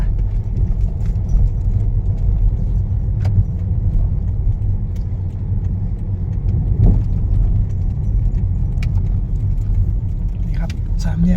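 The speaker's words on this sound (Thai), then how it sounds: "ขับเข้ามาแล้วก็มาถึงสามแยกตรงนี้ให้เราเลี้ยวขวา" A car driving along a village road in Thailand, a steady low engine and road rumble close by, with someone talking over it throughout.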